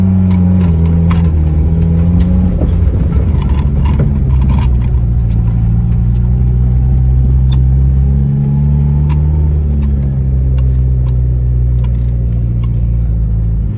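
A Yugo car drives on a morning commute, its engine giving a loud, steady low rumble close by with slight shifts in pitch and scattered small clicks and rattles.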